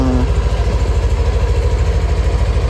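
A Yamaha Nmax third-generation scooter engine idles while warming up, a loud, close, steady throbbing putter with an even pulsing rhythm and no talk over it.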